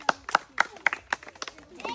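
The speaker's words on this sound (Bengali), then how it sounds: "হাততালি সবাই," A group claps hands in a quick, uneven burst of sharp claps at a children's spin-to-win food game, with voices mixed in.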